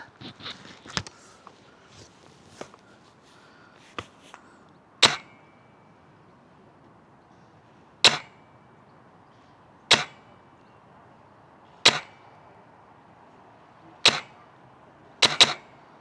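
Sharp, distant metallic impacts of bullets from an AR-15 with a Knight's Armament suppressor striking a steel target about 60 meters away arrive one at a time at irregular intervals, about seven clear hits, with quieter faint knocks early on and an outdoor hush between.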